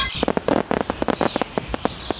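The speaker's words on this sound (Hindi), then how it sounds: "तभी पटाखों की लड़ी फट जाती है और पटाखे फूटने लगते हैं।" A string of cartoon firecrackers bursting in a classroom: a rapid, irregular run of sharp pops and crackles, some louder bursts clustered near the start, with faint whistling tones above, loud and close.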